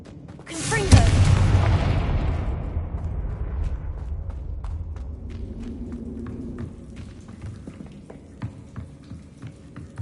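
A Confringo blasting spell in Hogwarts Legacy sets off a loud, close explosive boom that rolls into a long, decaying rumble, followed by scattered small pops and footsteps as the blast fades.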